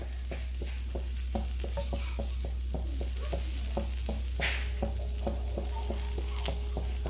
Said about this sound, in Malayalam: ഇനിയിപ്പോൾ ഇതിലേക്ക് ഒരു സ്ലൈസ് ബട്ടറും കൂടി ഞാൻ ഇട്ട് കൊടുക്കുകയാണ്